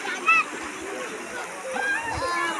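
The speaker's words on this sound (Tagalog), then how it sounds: "Dami naliligo." People bathing and splashing in open water, with bursts of sloshing and splatter under a steady wash of noise, while voices talk throughout nearby.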